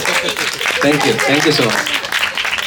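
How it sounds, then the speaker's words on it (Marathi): Audience applause at a Marathi music concert, steady crowd clapping throughout, with a performer speaking briefly over it. "टाळ्या तरी आल्याच पाहिजे"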